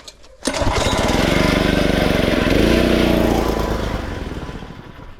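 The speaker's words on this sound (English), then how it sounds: "We're just gonna power wash this thing" A gas engine on a pressure washer starts up with a sharp onset and runs loudly at a steady pulsing rhythm, its pitch shifting slightly as it works, before trailing off somewhat, while an ATV is power washed.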